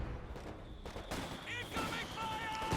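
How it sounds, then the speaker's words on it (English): MG42 machine gun fire in the Company of Heroes 2 video game crackles in short, faint bursts within a busy battle mix, with other game effects layered over it. "The MG42 sending up support in the stuff."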